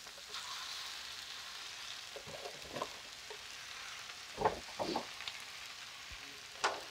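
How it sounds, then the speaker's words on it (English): Wilting spinach fries in a pan with a steady soft sizzle, interrupted by a few scraping, clattering stirs of a utensil, close and fairly quiet. "now that it's started to wilt, I'm gonna give it a little stir"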